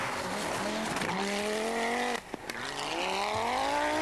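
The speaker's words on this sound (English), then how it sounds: "Ari rockets through the forest ahead of Stig" Group B Audi Sport Quattro rally car at the 1985 Swedish Rally charging through a forest stage, a loud engine howl rising through gears with a brief lift-off crackle midway before pulling hard again.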